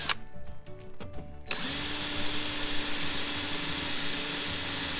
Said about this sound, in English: Let the bit and the drill do the work for you.